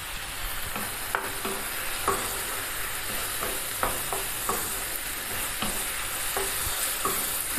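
Chicken frying in a covered pan, an even background sizzle broken by scattered sharp pops and clicks of stirring, fairly close and moderately loud, with no talking.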